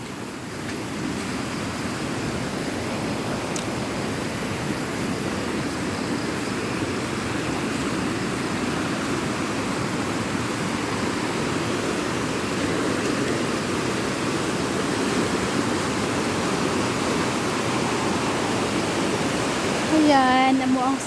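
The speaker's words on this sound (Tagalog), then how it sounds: "Ayan, amo ang sapa." Water rushes steadily through a flooded river stream, a dense continuous roar close by that holds evenly throughout, with a faint brief sound near the end.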